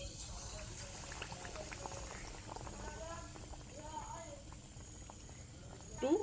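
Egg-coated pitha batter frying in hot oil gives a soft, steady sizzle and bubbling, faint and close, running continuously with a brief louder clatter at the end.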